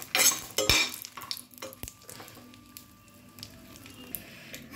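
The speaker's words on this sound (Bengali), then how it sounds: "শুকনো লঙ্কাটা ভালোভাবে ফ্রাই করে নেব।" Five dried red chillies fry in hot mustard oil, giving a soft sizzle with clinks and scrapes from a utensil against the pan, loudest at the start and then settling to a quieter crackle.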